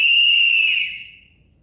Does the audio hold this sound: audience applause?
no